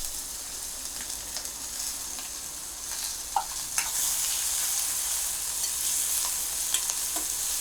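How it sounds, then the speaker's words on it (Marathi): Chopped onion sautéing in a hot tempering of oil with ginger, green chilli and curry leaves for a carrot dish, a steady soft sizzle with occasional light stirring clicks, close and alone. "कांदा थोडासा परतून घेऊया"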